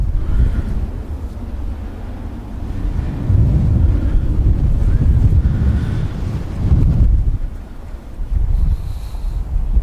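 Heavy wind buffets the microphone on open water from a boat, with deep rumbling gusts that rise and fall in strong surges over about ten seconds.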